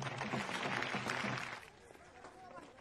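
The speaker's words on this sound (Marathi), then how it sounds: "दादांचं स्वागत करावं टाळ्या वाजवून." Audience at a staged comedy cricket final applauds in welcome, a dense burst of clapping that swells over the first second and a half, then thins to scattered claps and murmur.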